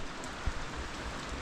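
Rain falls steadily on a trail shelter in the woods of Maine, a soft continuous patter with one brief louder drop, no voices.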